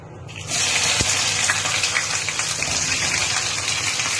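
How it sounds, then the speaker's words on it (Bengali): Okra (bhindi) dropped into hot white cooking oil, a sudden loud sizzling rush that starts after a brief quiet moment and keeps going as a dense, steady close hiss. "তেলটা গরম হয়ে গেছে, এবার ভেন্ডিগুলো দিয়ে দেবো।"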